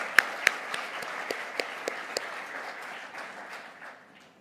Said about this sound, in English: I would like to give a big round of applause to Shailesh.